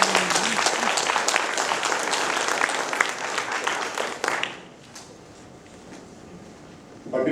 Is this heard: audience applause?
yes